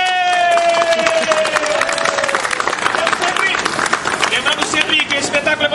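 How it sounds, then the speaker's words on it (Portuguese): Audience applause at a theatre show, a dense, steady wash of many hands clapping with crowd noise and a raised voice over the start, continuing loudly throughout. "Uma salva de palmas."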